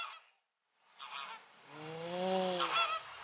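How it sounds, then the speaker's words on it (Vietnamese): A flock of ducks in an animated cartoon gives a short run of nasal, honking quacks, close and fairly loud after a brief silence. "Đàn vịt đẹp chưa kìa hai anh."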